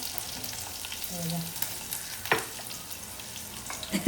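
Crushed garlic, a hot green chilli and four or five curry leaves hiss quietly in hot oil in a pan for a dried-fish curry, a soft continuous sizzle with a small clink partway through.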